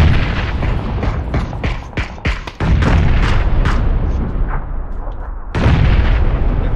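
Gunfire in a video game booms and cracks as a rapid string of distant heavy shots with a continuous rumble, then a loud blast near the end.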